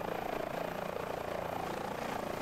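Steady, continuous rotor and turbine drone of an Airbus H145 helicopter lifting off from a taxiway in Microsoft Flight Simulator, loud and even throughout with no talking.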